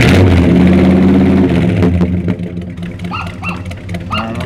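A 1970 Buick Skylark V8 rumbles under the hood with a deep, throaty idle that surges into loud revs, then settles into a lumpy burble while a dog barks in short bursts nearby.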